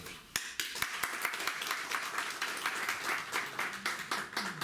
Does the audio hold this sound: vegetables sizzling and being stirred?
no